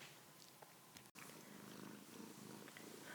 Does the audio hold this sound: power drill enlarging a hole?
no